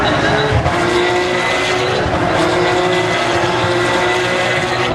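A 2008 Formula 1 car at the Singapore Grand Prix street circuit, its high-pitched engine screaming steadily and loudly throughout with a broad, continuous roar and no pauses.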